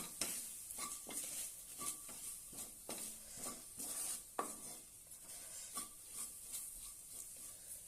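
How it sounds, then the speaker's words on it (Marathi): Okra being stir-fried with roasted gram flour in a pan, a spatula scraping and stirring in repeated strokes over a steady low sizzle, close and moderately loud with no talking. "छानपैकी परतून घेऊया"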